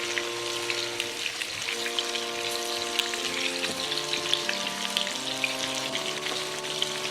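Onion rings fry in a pan with a steady, close crackling sizzle, while soft tonal music-like hums run beneath the frying throughout.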